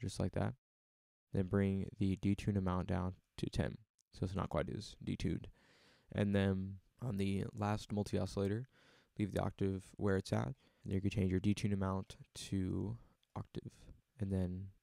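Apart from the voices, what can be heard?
No distinct noise like a dog, phone or traffic.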